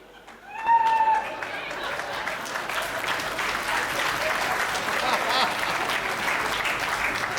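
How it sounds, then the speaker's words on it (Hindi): A crowd at a Hindi comic poetry gathering breaks into sudden loud clapping that continues as steady, dense applause, with a brief voice heard at the very start. "अगर वो पसंद आ जाए तो ताली बजा देना"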